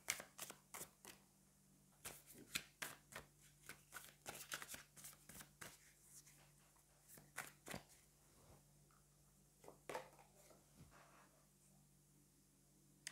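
Tarot cards are shuffled close up in a quiet room, a series of crisp, papery riffles and flicks arriving in irregular bursts, some loud and some soft, with no talking over them.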